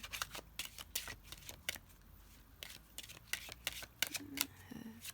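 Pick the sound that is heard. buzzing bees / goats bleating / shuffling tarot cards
shuffling tarot cards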